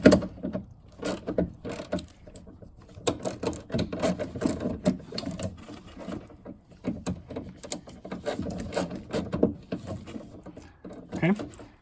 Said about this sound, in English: And I'm going to do the rest with the ratchet.